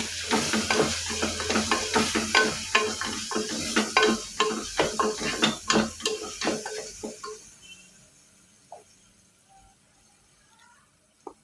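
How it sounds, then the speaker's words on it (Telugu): Spices are stirred into an egg biryani mixture in a sizzling pan, with rapid rhythmic scraping and clinking of a spoon for several seconds before the stirring stops and only a faint fry remains. "ఇవన్నీ మొత్తం అన్నీ బాగా కలుపుకోవాలి"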